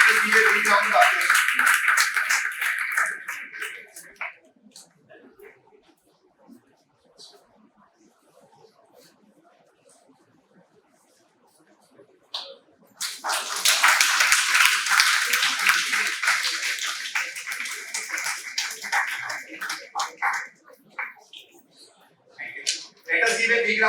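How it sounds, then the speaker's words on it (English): Audience applause for prize winners at a university World Entrepreneurship Day ceremony, a steady wash of many hands clapping that fades to near quiet midway, then swells again loud and sustained to the end. "Let us give a big round of applause."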